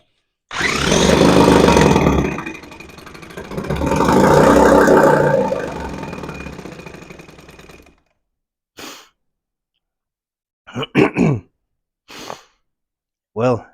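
A Johnson Seahorse outboard motor, under revival, runs loud and close for about seven seconds in two surges that swell and ease before cutting out, followed by short bursts of talk.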